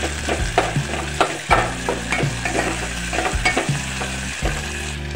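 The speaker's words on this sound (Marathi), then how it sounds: "आलू वगैरे टाकले म्हणून मी इथे 2 मिनिट शिजू देणार आहे।" Potatoes and vegetables for veg pulao sizzle and fry loudly in a pan, with frequent close scraping and stirring strokes over a steady crackle.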